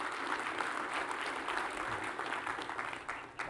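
Audience applause fills a conference hall at an Apple WWDC keynote session, a steady, dense wash of clapping from many hands that carries on evenly throughout without speech.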